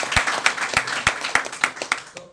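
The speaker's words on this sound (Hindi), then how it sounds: "ताली बजाइए अंकल जी" Audience clapping at a business idea-sharing seminar, a brisk burst of applause with distinct claps in a loose rhythm, fairly close and fading at the end.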